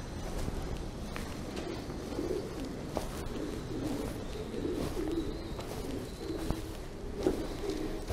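Pigeon coos and faint wingbeats inside an abandoned high school room, the floor thick with droppings; soft, intermittent calls over a steady hollow room hiss, with scattered light footsteps.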